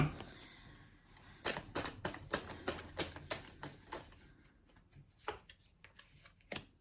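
Tarot cards shuffled by hand in an uneven, fumbling run, a series of crisp papery riffles and slaps up close that come in irregular bursts with short gaps between them.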